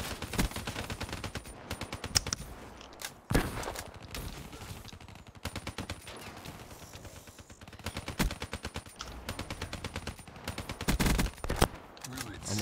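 Automatic gunfire bursts from a Black Ops 3 Hardpoint multiplayer match, rapid clusters of shots repeating throughout with brief gaps, loud and close, while a player talks over parts of it.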